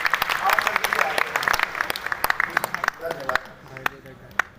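Applause from an audience at a university political science event in Lucknow, a burst of sharp hand claps fading out toward the end, with voices mixed in.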